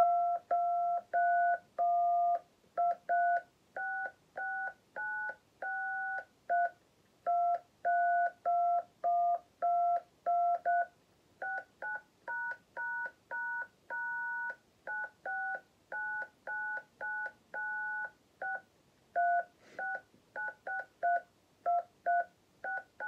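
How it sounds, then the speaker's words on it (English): The British National Anthem is tapped out as a melody of phone keypad DTMF tones, a long series of clean beeps in a steady, tuneful rhythm with short gaps between them. "here is the British National Anthem on a phone keypad"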